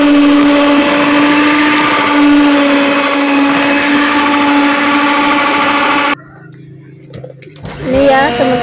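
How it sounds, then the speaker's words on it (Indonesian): An electric hand mixer whirs loudly and steadily, beating cake batter made with glutinous rice flour, emulsifier and baking powder, then cuts out abruptly before short clinks and a brief spoken voice. "Contohnya saya akan mulai memixernya ya teman-teman."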